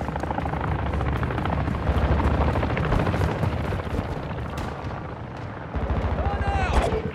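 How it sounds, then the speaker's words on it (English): A VTOL aircraft flying in during a Call of Duty MW2 battle, a loud continuous rotor-like engine roar with bursts of gunfire and explosions, and voices talking over it. "Friendly VTOL inbound."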